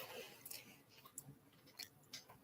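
Faint, close chewing with a few soft crunchy clicks and squishy bites scattered irregularly over a quiet room.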